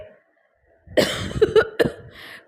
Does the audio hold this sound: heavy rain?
no